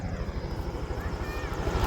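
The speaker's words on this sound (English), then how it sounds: "Oh, there's a helicopter." A helicopter flies overhead outdoors on a nature trail, a steady rhythmic rotor thump with a droning engine, moderately loud and continuous, with no talk.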